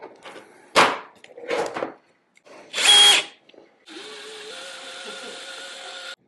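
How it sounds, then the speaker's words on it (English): A power drill fitted with a small screwdriver bit, used on fasteners of an aftermarket key fob: several short bursts of whirring spin, close and loud, then a longer steady high run near the end, with no talking. "I'm about to put this little screwdriver in my drill."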